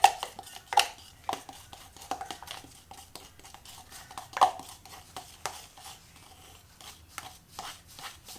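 A spoon stirs black and white house paint in a cup, making soft, close scraping and light clinking taps at an irregular rhythm, faint and quiet throughout.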